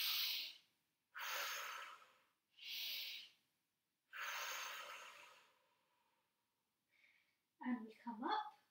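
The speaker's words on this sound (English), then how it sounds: "let's do 2 deep breaths at the bottom" Slow, deep breaths during a pregnancy pilates session, several long audible inhales and exhales close up, with a pause before some brief breathy sounds at the end.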